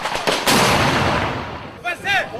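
Gunfire from armed men shooting in all directions during a chaotic Ivorian street clash. A loud, dense burst of shots and blasts, with a voice talking over it near the end.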